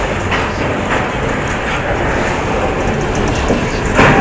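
Train rolling into Panvel station on a Mumbai to Goa journey, a steady broadband rumble of wheels and carriages heard from on board, continuous and fairly loud with a slight swell at the end.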